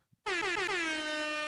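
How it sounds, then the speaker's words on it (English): A single loud air horn blast kicks in after a brief pause and holds steady, bright and brassy, without letting up. "Where's my air horn?"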